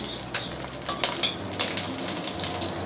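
Ginger sautéing in hot oil for Sarawak laksa: a steady, close sizzling hiss with a few sharp crackles and spits, and no voices.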